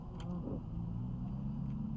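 A car in the video game Unturned drives along with a steady, low, continuous engine rumble at moderate distance, with no voices heard.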